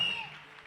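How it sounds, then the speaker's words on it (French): Applause from an audience at a French-language religious gathering, a brief steady wash of clapping, fairly loud and fading slightly. "On applaudit encore pour lui, s'il vous plaît."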